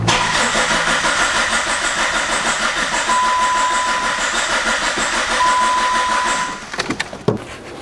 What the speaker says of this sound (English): I try to spin it over and see if it starts.